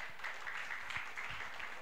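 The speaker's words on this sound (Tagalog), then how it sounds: "Palakpak pa po para sa Panginoon" A church congregation applauding, a soft steady wash of many hands clapping together, heard at a distance with a few louder claps standing out.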